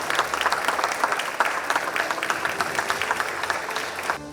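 Guests at a corporate ESG management award ceremony clap warmly for a winning company during a photo session, a steady moderate patter of many hands that eases off at the end.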